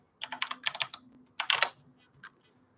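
Bursts of clattering computer keyboard typing, several quick clusters of keystrokes close up and fairly loud, separated by short pauses and ending with a few fainter taps.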